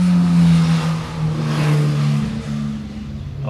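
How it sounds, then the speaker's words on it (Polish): A motorcycle rides off close by, its loud engine droning and revving with a steady throbbing note that dips and swells slightly, with no talking. "O, Jareczek pojechał na motorze."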